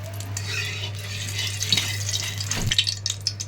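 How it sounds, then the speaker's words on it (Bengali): Sugar stirred in hot oil in a pan until it reddens, soft scraping spoon strokes over a faint sizzle and a steady low hum, with a few clinks near the end. "চিনিটা যতক্ষণ না লাল হচ্ছে ততক্ষণ পর্যন্ত এটাকে আমি নাড়তে থাকবো।"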